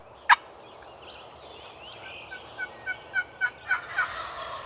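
A wild turkey gobbles outdoors, a sharp burst followed by a quick series of repeated throaty calls, fairly close against a quiet background.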